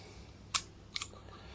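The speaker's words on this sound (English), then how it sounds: "that is the shutter sound. That is very quiet" A Pax Ruby rangefinder camera with an all-metal body fires its quiet shutter: two crisp, faint clicks about half a second apart, close up in a still room.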